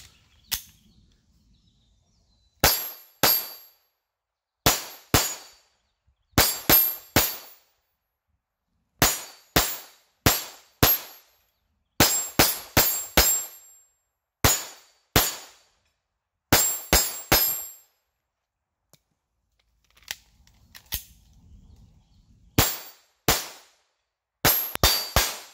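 A Taurus TX22 .22 pistol fitted with a red dot sight fires repeatedly outdoors, each sharp crack followed by a short metallic ring. Shots come in irregular strings separated by silent pauses, loud and close, with no talking.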